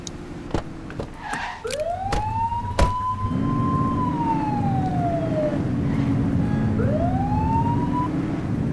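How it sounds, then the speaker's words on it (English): A police car siren in the video game LCPDFR Lite wails in long rising and falling sweeps after a few sharp clicks, loud and close, with a low engine hum underneath and no talk. "You're only meant to use the siren in emergencies."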